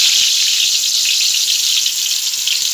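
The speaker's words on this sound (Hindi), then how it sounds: "अब मैं इसमें ये जो नमक हल्दी लगे हुए बटाटे हैं, ये तल कर लूँगी फ्राई करके।" Salt-and-turmeric-coated potatoes fry in hot oil, giving a loud, steady, dense sizzle that holds without a break from start to end, with no voices over it.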